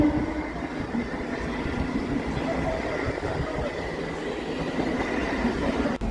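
An Indian Railways electric train passes along the tracks, a steady rumble of rolling wagons with a faint clickety-clack and a high wheel squeal, loud and close for the whole stretch.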